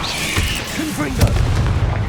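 Confringo explosive spell blast in Hogwarts Legacy, a loud booming burst in the middle of rumbling combat noise, with a voice speaking over it.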